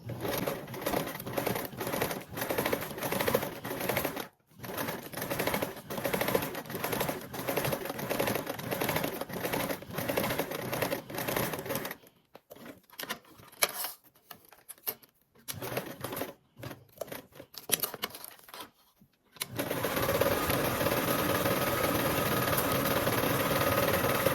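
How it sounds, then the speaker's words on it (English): A sewing machine top stitches along a join seam with a 1/8 seam allowance, running in a fast continuous rattle, pausing briefly, then stuttering in short bursts before resuming at full speed. "Now top stitch along the join seam and baste around the perimeter, all with a 1/8 seam allowance."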